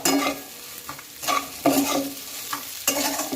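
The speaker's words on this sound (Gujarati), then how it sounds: "હવે આને આપણે સરસ મિક્સ કરી લઈએ ગેસ મેં ધીમો જ રાખ્યો છે" Corn chevdo stirred in hot oil on a low flame, with several spoon-scraping strokes against the pan over a gentle sizzle, close and clear with no talking.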